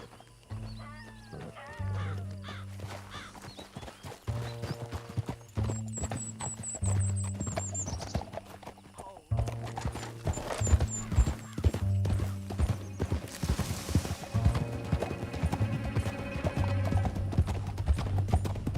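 Galloping horse hooves in Red Dead Redemption 2 pound in a fast, steady rhythm with a sharp whinny, set over the game soundtrack with music and no talking.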